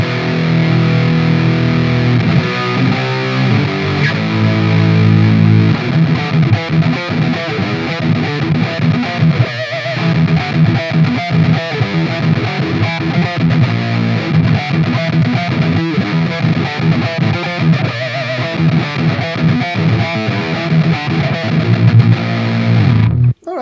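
A Soldano SLO-style ML Sound Lab Volcano amplifier set to a heavy distortion preset, played loud with dense, saturated guitar chords and riffs ringing continuously for over twenty seconds before cutting off.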